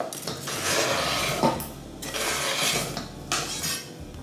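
Apple pieces drop into a saucepan with several clattering knocks and metallic clinks, close and fairly loud in bursts, with no talk.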